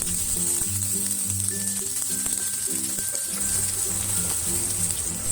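Garlic and onion sautéing in a hot pan give a continuous bright hiss throughout, with faint low clatter and a few thin tonal squeaks underneath, close and steady.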